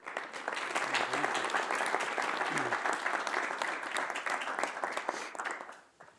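Applause from a seated audience welcoming Ambassador Ryan Crocker to a morning political talk: steady, dense clapping that rises quickly, holds for about five seconds, then tapers off.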